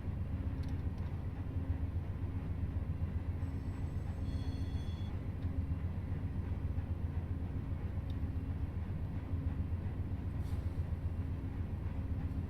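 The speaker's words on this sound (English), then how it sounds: "Amtrak stopping for a crew change?" An Amtrak train slows to a stop at Selkirk, heard as a steady low rumble of rolling cars with a brief high wheel squeal partway through, at moderate distance and fairly faint.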